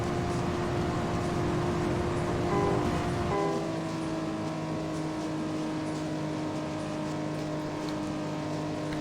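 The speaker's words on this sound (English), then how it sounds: "We'll go up to 6th gear and then hit the nitrous." A race car in the video game Juiced holds a steady engine drone, then shifts up with a brief change in pitch partway through and carries on at a high steady whine, loud and close, with no talk.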